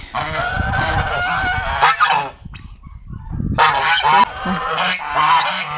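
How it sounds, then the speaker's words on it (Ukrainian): Several geese, three ganders and two females, honk loudly and repeatedly nearby in a village farmyard, their harsh calls overlapping in bursts with a short quieter gap in the middle. "Тут три гусачка і дві гусочки"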